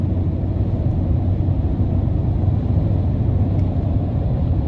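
A 2021 GMC Sierra 1500 AT4 Carbon Pro pickup with a 3.0 engine accelerating on adaptive cruise, heard from inside the cab as a steady, loud low road and engine rumble.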